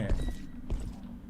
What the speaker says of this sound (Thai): นี่เสียงเท้า